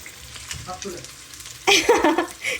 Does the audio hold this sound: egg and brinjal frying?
yes